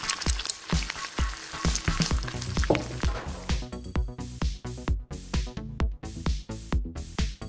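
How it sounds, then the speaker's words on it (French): Pasta tossed into a hot pan with bacon and cream sizzles steadily and loudly, with repeated stirring and scraping strokes, and no talking. "ajoute les pâtes dans le bacon à la crème"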